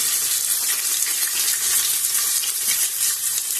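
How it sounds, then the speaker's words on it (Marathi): Onions sautéing in a pan with garlic paste, bay leaf and whole spices for khichdi, a bright continuous hissing sizzle held close and even throughout, with no voices. "आता कांद्याला छान परतू दे आपण,"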